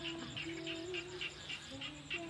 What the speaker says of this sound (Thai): เขียดกบหลายครับ